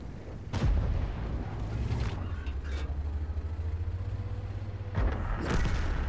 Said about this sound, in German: Da kommt die arty.